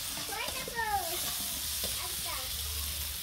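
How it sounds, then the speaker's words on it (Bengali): Faint steady sizzling of food frying in a pan, with brief voices and some clatter early on. "ভাজাটা দেখে দাও, কাছে নেই।"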